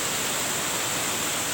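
The largest waterfall at Junjong, Kulim, Kedah, Malaysia gives a steady, loud, broadband rush of falling water, unbroken and without voices.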